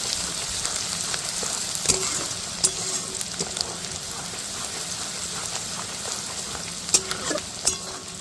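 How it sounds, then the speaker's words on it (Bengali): Chopped onion frying in a pan for basanti pulao, a loud continuous crackling sizzle with a few sharp clinks as a spoon gently stirs, close up with no voices. "হালকা করে নাড়া দিব আস্তে আস্তে"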